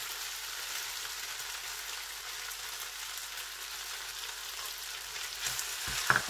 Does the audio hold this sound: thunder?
no